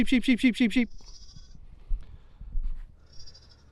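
A sheep gives one loud, wavering bleat close by, then quiet shuffling and faint rustling follow, with a soft distant cry near the end.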